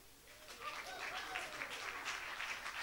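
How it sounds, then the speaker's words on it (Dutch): Audience applause at a community gathering, a fairly faint but steady wash of many hands clapping that builds slightly and holds at a distance. "Vlissings applaus."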